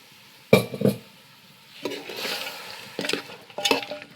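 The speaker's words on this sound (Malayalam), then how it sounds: "ഇതിലേക്ക് നമ്മുടെ വേവിച്ച് വെച്ച ബീഫ് ഇട്ട് കൊടുക്കുക. ആ വെള്ളത്തോടെ ഒന്ന് ഒഴിച്ച് കൊടുക്കുക. എല്ലാം കൂടി മിക്സ് ആക്കുക." Cooked beef with its water being stirred into masala in a pan, a spoon scraping and clacking in several uneven bursts over a soft background sizzle.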